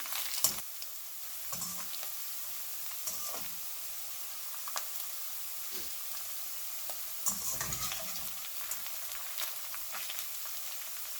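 Pre-cooked nopal cactus slices sauté in a pan to crisp up. A soft, low sizzle runs under scattered scraping knocks as they are stirred, quiet and close with no voices.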